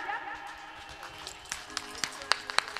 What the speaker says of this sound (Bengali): একটু জোরে জোরে হাত তালি হয়ে যাক।